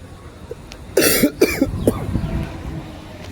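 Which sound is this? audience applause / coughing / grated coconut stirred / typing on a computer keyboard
coughing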